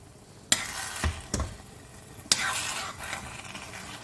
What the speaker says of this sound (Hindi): घी उतारते उतारते नीचे से लग ही ना जाए, इसलिए मैंने चम्मच चला दिया